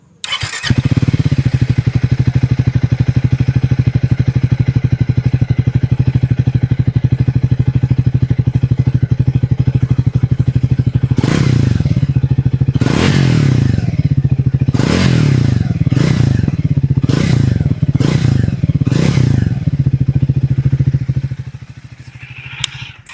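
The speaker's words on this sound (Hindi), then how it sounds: "तो सबसे पहले आपको मैं सुना देता हूँ थ्रक्शन 400 का एग्जॉस्ट नोट।" A Triumph Thruxton 400 single-cylinder motorcycle idles with a steady, thumping exhaust note recorded close to the pipe, then gets a series of sharp throttle blips before cutting off.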